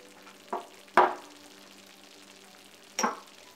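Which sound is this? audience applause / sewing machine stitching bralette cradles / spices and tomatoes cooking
spices and tomatoes cooking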